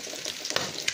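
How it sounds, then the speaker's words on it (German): Sausage pieces fry in a pan for potato salad, giving a steady close crackling sizzle with brief pops and spatters and no talking. "So sehen die Wurstkraken in der Pfanne aus."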